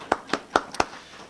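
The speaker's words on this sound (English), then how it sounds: "If we could give a light round of applause" Four sharp, separate claps ring out in quick succession with a fainter one among them, close and fairly light, then silence.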